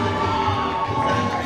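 A wrestling crowd at an indie show boos, a steady, dense roar of many voices that holds at an even level throughout, with no single voice standing out.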